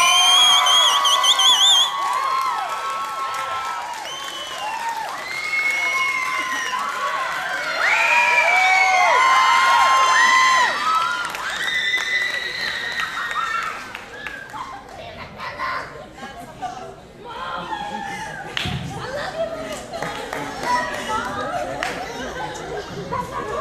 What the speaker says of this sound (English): So please give a warm round of applause for the first runner-up